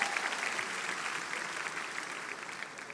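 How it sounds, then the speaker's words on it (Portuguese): Steady audience applause at a religious talk, continuous dense clapping from a crowd at moderate distance, holding evenly for a few seconds. "Gente, aplaude esse meu irmão aí, cara."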